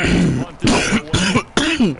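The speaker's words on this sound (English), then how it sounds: "I'm sorry if I'm coughing in your ear" Several harsh coughs and throat clearings in quick succession, loud and close, with short pauses between bursts.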